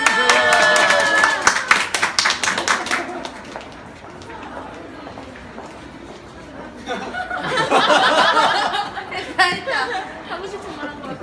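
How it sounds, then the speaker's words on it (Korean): A small group at a sit-in camp in Gwanghwamun, Seoul, claps in two short bursts, with chatter and laughter mixed in. Quieter talking fills the gap between the bursts. "박수 주세요"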